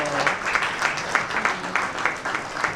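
An audience at a Rotary Club of Rupandehi installation ceremony stands and applauds in honour of a guest. The clapping is dense and steady throughout and rises and falls in waves.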